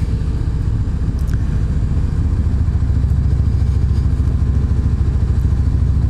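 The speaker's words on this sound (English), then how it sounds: "You get really nice sound from the engine." A 2018 Yamaha Venture motorcycle ridden through town, a continuous low engine rumble with a steady throbbing pulse up close, rising slightly partway through, with light wind noise.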